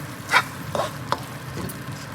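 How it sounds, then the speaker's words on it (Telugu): Raisin paste thickened with cornflour being stirred in a pan, with a few soft scraping strokes of a spoon and a faint sizzle between them, heard up close with no talking. "కిస్మిస్ పేస్ట్ వేసుకొని ఇలా దగ్గరికి వచ్చేంత వరకు కలగట్టుకొని చేసుకోవాలి."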